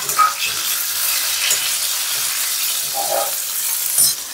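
Carrots and potatoes frying in hot oil, giving a dense, even hiss that crackles steadily throughout with occasional small pops.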